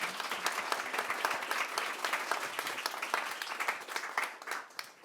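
An audience claps for a panellist at a climate centre launch, a dense patter of many hands at moderate distance, sustained throughout and tapering slightly toward the end.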